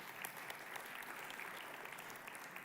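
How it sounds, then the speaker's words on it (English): An audience at a weekly gathering claps continuously, a dense, even wash of applause with no talk over it. "your clap that I hear"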